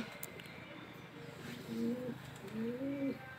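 Pigeons perched behind a house among tanks and plant pots coo softly in a few repeated low phrases over faint background hiss.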